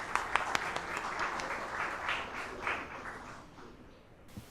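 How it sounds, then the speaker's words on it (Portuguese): Audience applause at a formal business talk event, a few crisp claps opening into a broad wash of clapping that gradually thins and fades away over several seconds. "Uma salva de palmas, muito obrigada, Sr. Wilson."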